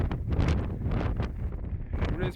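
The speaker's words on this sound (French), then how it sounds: "Désolé pour le vent" Wind gusts on a mountain hike, buffeting the microphone with a steady low rumble and rushing hiss that swell and ease throughout, with a voice faintly present at times.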